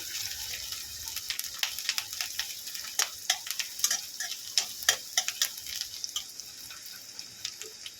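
Onion is lightly fried in a pan for a simple pasta dish, a close steady sizzle broken by frequent crackling pops and stirring ticks, with no voices.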